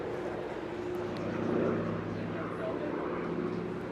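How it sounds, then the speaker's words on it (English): A Hawker Fury FB.11 fighter with a Bristol Centaurus radial engine flies past at an airshow, its piston engine a deep, steady roar that swells slightly mid-pass and stays under a commentator's continuous talk. "same Bristol Centaurus engine, an absolutely meaty, massive powerhouse right at the sharp end of this aircraft"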